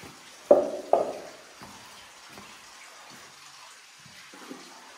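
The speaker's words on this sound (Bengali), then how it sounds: "জল আসছে, জল চুয়ে চুয়ে আসছে" Inside Mawsmai Cave near Cherrapunji, water seeps and drips through the rock. Two close, distinct drip splashes stand out early, followed by fainter trickling and occasional softer drops in a quiet, echoing space.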